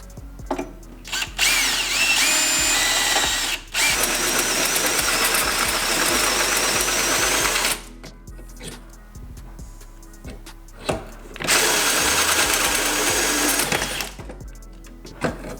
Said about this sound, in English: I'll drill this middle hole out so we can fit the axle in here